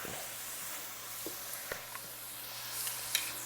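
Pasta bolognese sauce with a bay leaf is stirred in a hot pan, giving a soft steady sizzle broken by a few light scrapes and taps of the utensil.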